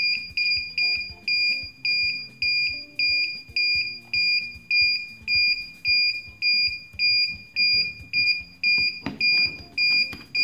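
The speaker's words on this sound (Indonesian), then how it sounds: "Pada kondisi ini rangkaian buzzer akan aktif." A relay-triggered power-outage electronic buzzer alarm pulses in a steady, repeating rhythm of loud shrill beeps, close and insistent, with no voices.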